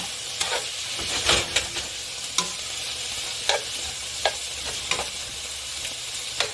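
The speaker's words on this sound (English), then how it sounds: "I'm going to let that stir fry on medium for about a minute" Beef and broccoli stir-fry on medium heat in a pan, a close sizzling hiss broken by repeated sharp scraping strokes of the spatula at a loose, irregular rhythm.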